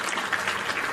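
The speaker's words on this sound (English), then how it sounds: "I'll give you some applause for that one" A brief, steady wash of applause and cheering from a crowd, even and dense throughout, with no distinct voices on top.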